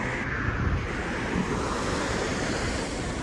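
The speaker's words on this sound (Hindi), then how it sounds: "आप इस समुद्र की आवाज़ सुनिए।" Sea waves wash ashore at Mutrah in Muscat, Oman, a steady close roar of surf with constant hiss and wind buffeting the microphone, loud and continuous with no voices.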